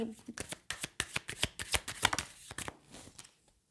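Tarot cards are rapidly shuffled in a series of quick, crisp riffles and snaps, close up, then the handling slows and stops as cards are drawn.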